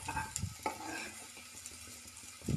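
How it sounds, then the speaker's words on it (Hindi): Ginger garlic paste is stirred into browned onions frying in a pot over medium heat for dal makhani, giving a soft sizzle with scraping stirs and a louder spoon clatter near the end. "और अब हम डालेंगे इसमें से पेस्ट अदरक और लहसुन का।"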